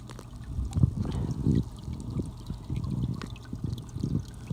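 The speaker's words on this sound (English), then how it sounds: "water's getting into the skimmer." Water trickling and pouring steadily into a koi pond skimmer in winter, with snow on the ground, a continuous close gurgling flow with no voices.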